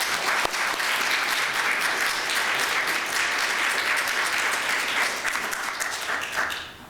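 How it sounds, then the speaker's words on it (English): A candidate forum audience applauds loudly and steadily, a dense wash of clapping that holds for several seconds before fading out at the end. "let's thank the candidates again with a round of applause"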